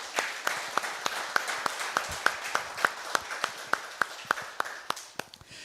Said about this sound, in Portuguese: Você pode aplaudir ao Senhor, querido?